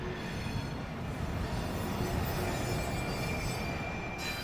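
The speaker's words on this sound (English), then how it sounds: "Man, these trains are getting loud." Trains pass through Clifton, Arizona with a loud, steady rumbling roar that fills the whole stretch without a break. Faint high wheel squeal rides on top, and no one speaks.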